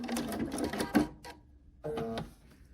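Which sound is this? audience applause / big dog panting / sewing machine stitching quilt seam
sewing machine stitching quilt seam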